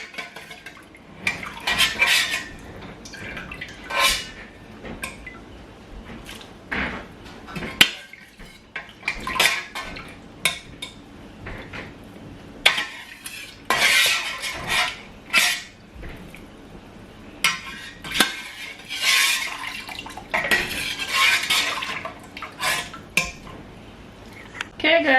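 Beef meat is added to a pot during large-batch family meal prep, with irregular clattering of pots, utensils and metal knocks in bursts over most of the stretch, close and moderately loud, while a person talks at times.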